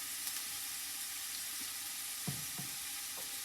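Onions sizzle and fry steadily in hot olive oil in a pan while pasta with mussels is cooked, a continuous hiss with a few soft low clunks from stirring or the pan.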